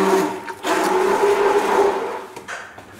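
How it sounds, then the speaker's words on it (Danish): A stick blender whirs in a pot of soup, a loud close motor drone with a steady tone that dips briefly twice as the blade shifts, then resumes. "nu vil jeg blende, og det larver måske lidt."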